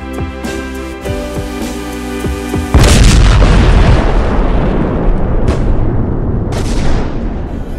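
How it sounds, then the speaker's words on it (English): The Earth exploding in a film starts with a rising tonal score, then a sudden massive boom at about the third second that rolls into a long, loud, dense rumble with a few later crackling bursts. "Let's watch it explode."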